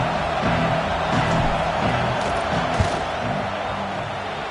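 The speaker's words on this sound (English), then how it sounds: "This crowd trying to do its part to get inside the kicker's head." Stadium crowd noise in a simulated football game, a loud continuous roar of many voices with scattered shouts as a kicker lines up a field goal, sitting under commentary.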